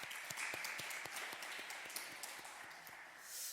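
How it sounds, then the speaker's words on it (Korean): Church congregation at a Wednesday worship service applauding the worship team, a faint, steady wash of many hands clapping heard from a distance, with distinct individual claps standing out. "수요 경배 찬양팀과 함께 축복하고 격려하는 박수 한번 하도록 하겠습니다"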